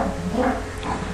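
Dogs indoors give short whimpers and yips, fairly close and alone, with no talk over them in this brief stretch.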